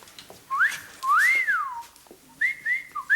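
A person whistles a few short rising and falling tones, a long swooping note in the middle, then quick bright notes, alone in a quiet room.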